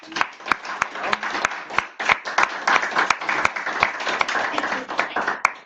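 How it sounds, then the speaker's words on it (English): An audience at a student association election debate applauds the two candidates, steady crowd clapping with sharp individual claps standing out throughout, moderately loud and without speech. "Okay, thank you, both candidates. Round of applause."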